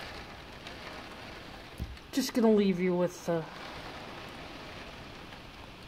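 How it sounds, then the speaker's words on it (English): Rain falls outside a window on a rainy summer afternoon in Florida as a soft, steady wash of patter, briefly interrupted by someone speaking a few words partway through. "rain falling outside my window for a little bit"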